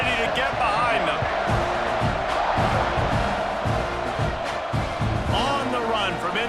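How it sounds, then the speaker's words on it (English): Stadium crowd roaring and cheering in the College Football 26 video game during a South Carolina vs Texas A&M matchup, loud and continuous, with a commentator talking over it. "this crowd now ready to get behind them"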